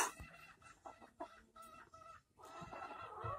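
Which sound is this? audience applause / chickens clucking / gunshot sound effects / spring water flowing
chickens clucking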